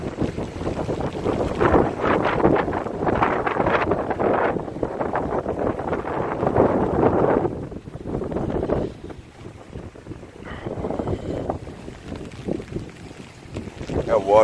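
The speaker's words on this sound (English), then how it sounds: "Wind is picking up too." Gusting wind buffets the microphone at a Hudson, Florida waterfront during Hurricane Irma, a steady broadband roar that swells and eases, loud and close throughout with no voices.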